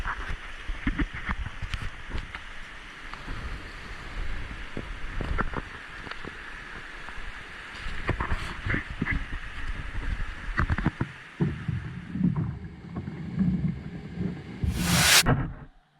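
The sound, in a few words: paddling a boat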